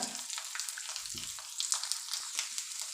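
Small chopped coconut pieces frying in a pan, a bright, crackling sizzle that holds steady for a few seconds with a brief low knock partway through, near and without any voice.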